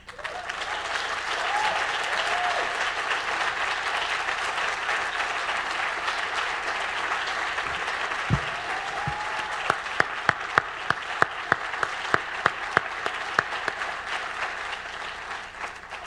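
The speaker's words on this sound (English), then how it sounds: "Let's just give one more round of applause to Alondra Uribe." An audience claps after a poetry reading at an education event, sustained applause filling the room, with a few sharp nearby claps standing out toward the end and faint voices underneath.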